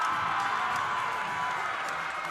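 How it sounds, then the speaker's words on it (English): Crowd cheering in an arena after a women's college gymnastics floor routine, Iowa at Ohio State; a steady, loud wash of voices and whoops sustained throughout with no break. "Crowd on their feet"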